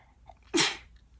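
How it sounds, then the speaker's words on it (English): A single sharp sneeze from a person, with a quick breathy intake and a loud burst close to the mic, alone in an otherwise quiet room. "I'm gonna sneeze"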